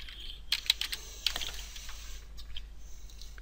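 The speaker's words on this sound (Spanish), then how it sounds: "esto es simplemente teclear" Close, rapid clicks of computer keyboard typing while entering data into an Access 2010 database form, with a busy burst early on, then lighter scattered keystrokes over a steady low hum.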